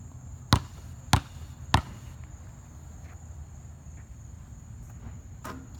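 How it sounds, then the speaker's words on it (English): A basketball bounces three times on an indoor court as part of a free-throw shooting routine, each bounce a sharp, close thump with quiet between. "I like to bounce the balls 3 times, spin it 1 time, and then go ahead and shoot"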